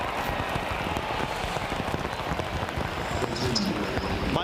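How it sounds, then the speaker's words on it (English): Pouring rain falls during a college football game between West Virginia and Oklahoma State. It makes a dense, continuous patter of drops on hard surfaces that holds steady throughout, with no voices. "Mike Gundy never afraid to take a shot, even in the pouring rain"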